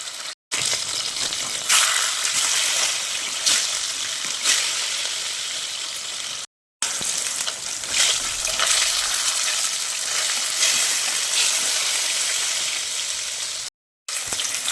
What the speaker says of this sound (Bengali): সেই মাছগুলোকে এবার আমি এপাশ ওপাশ করে ভালোভাবে ভেজে নেব।